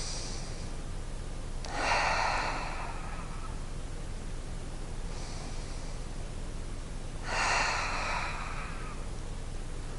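Two deep, slow inhalations during a breathing exercise in a body movement class, each a soft airy rush lasting about a second and a half, close and calm over a quiet steady background hiss.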